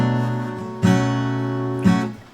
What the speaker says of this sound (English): So he's going like this, pulling off, hammering on, pulling off, and that's all he's doing.